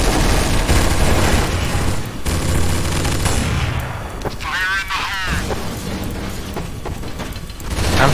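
Gunfire in Counter-Strike: Source, dense rapid bursts of automatic shots and blasts filling most of the clip, loud and close, with a player talking over the shooting.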